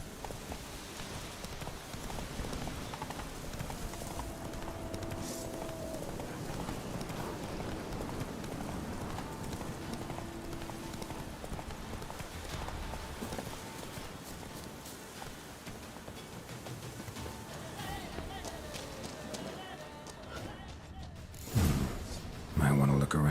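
Horse hooves clip-clop at a gallop in The Witcher 3: Wild Hunt, a steady drumming gait under ambient game sound, with music and a short spoken line near the end.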